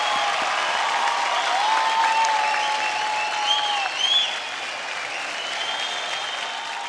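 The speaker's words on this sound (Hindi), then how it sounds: "जोरदार तालियां" Loud, sustained audience applause in a singing competition studio, dense and continuous with faint cheers and whistles riding above it.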